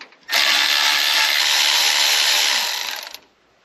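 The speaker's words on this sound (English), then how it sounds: "I'll get the timing cover bolts out" A power tool, likely an impact driver or ratchet, backing out timing cover bolts on a 1983 Chevrolet C30 truck engine, one loud sustained whirring burst of about three seconds, close up, winding down at the end.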